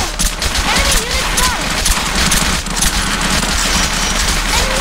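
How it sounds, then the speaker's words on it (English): Rapid gunfire from a battle on Marberry Shore in the video game Valkyria Chronicles, a steady crackling fusillade of many shots running throughout, mixed with game sounds and character voice lines. "There's gunfire!"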